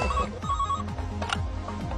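A telephone rings with a bright trilling electronic bell, repeating in quick bursts, close and clear with no talk over it.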